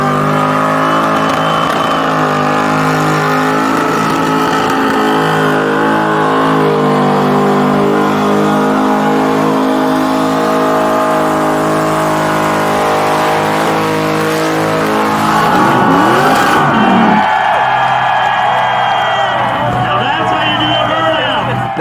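A 1500HP twin-turbo exoskeleton drag car roars through a long burnout at a night burnout contest, heard from the passenger seat as a loud sustained engine howl with revving surges and a crowd audible behind it.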